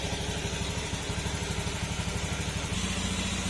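A Honda Beat scooter engine, misfiring when hot, idles at about 1,700 rpm with a steady, rapid chugging rhythm, close and continuous, with a faint clatter.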